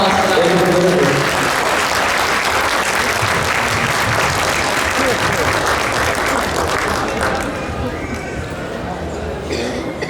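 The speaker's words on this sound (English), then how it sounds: "let's give one more round of applause for them" A large audience at a graduation-style ceremony gives a loud, sustained round of applause for valedictorians, with dense clapping and crowd noise that eases slightly near the end.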